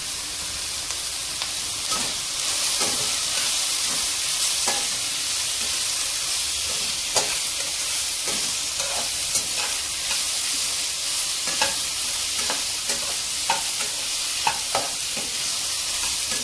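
Shredded cabbage and curry leaves sizzle steadily in hot oil for vegetable rice, a continuous close frying hiss broken by frequent sharp scrapes and clicks of stirring.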